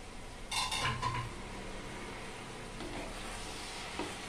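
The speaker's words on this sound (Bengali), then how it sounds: "ঢাকনা সরিয়ে দেখে নেব বাঁধাকপিটা সেদ্ধ হয়েছে কিনা।" A metal lid lifts off a pot of boiled cabbage with a couple of clanks, then a quiet steady simmer or sizzle continues alone, with no talking.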